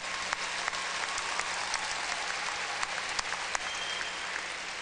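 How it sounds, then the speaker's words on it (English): A Lowell High School commencement audience in 2009 gives sustained applause to the speaker. The clapping is a thick, even wash with a few sharper individual claps standing out, loud and continuous throughout. "I'll take that applause."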